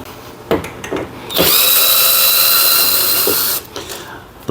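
A power drill at work removing the gas tank from a Toro Timecutter Z5000 mower. One loud, high whirring run lasts about two seconds, with a few sharp clicks and knocks before and after it.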